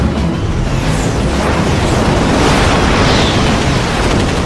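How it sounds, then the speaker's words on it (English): Heavy roaring cannon fire from Mirage and Sukhoi fighter jets, 30mm guns blazing in an aerial dogfight, a loud unbroken rumbling blast that holds steady for several seconds with no pauses. "30mm cannon tracers rip through the sky"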